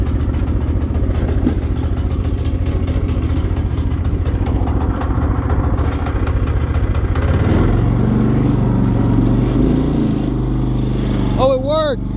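A small engine on a homemade go-kart runs loudly nearby, a steady rough drone that deepens and steadies after several seconds, with people talking over it and a high squeal near the end.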